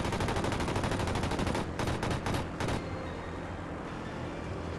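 Plane machine guns in the video game Learn to Fly 2 fire in a loud, rapid stuttering burst, then break into a few ragged short volleys before cutting off into a steady hum.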